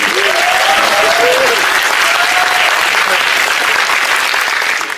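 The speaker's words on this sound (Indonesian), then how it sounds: "Boleh tepuk tangan." Loud, steady applause fills the room from an audience after speeches at an Indonesian gathering, with a faint voice or tone briefly audible beneath the dense clapping.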